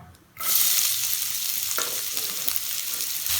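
Two medium-size onions, finely chopped, hit hot groundnut oil with fried fennel seeds in a pan and erupt into a loud, steady sizzle up close. A light scrape of stirring comes through partway.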